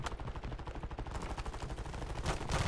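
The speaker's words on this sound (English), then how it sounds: "What are they shooting at?" Rapid automatic gunfire crackles continuously in a video game firefight, dense overlapping bursts at moderate distance, growing heavier toward the end with no voices.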